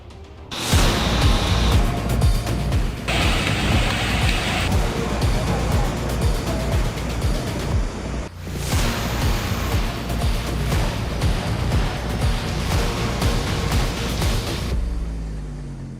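Heavy monsoon rain pours down in a steady, dense roar during flooding from the hills to the plains, a loud continuous wash with a brief dip midway, with no clear speech.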